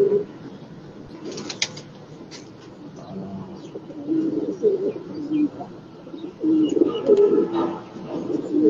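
Soft, low pigeon cooing repeats in short phrases, with a few chirps and light rustles nearby; the coos swell louder toward the end.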